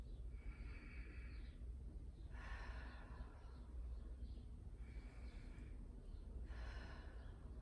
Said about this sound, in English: So just take some nice deep breaths here, really filling up the side body space here